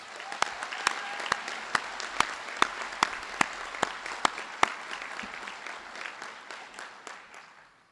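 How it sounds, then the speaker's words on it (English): Warm applause at a hospital health science school graduation ceremony, a large audience clapping steadily with a few sharp, distinct claps standing out, then fading gradually toward the end. "let's again offer them a warm round of applause"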